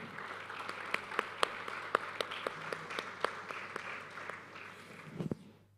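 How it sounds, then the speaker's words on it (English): An audience at a Web3 event gives a panel a round of applause, with distinct claps rising into a moderate, fairly sparse burst that fades after about five seconds. "give them a big round of applause"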